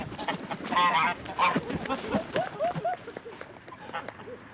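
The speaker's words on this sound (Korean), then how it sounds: "제가 쫓아가니까 거위들이 놀래가지고 지금 난리 났어요." Startled geese on a farm near Lake Balaton in Hungary, honking in a burst of repeated nasal calls that overlap and then taper off, close to the listener, with a person's voice mixed in.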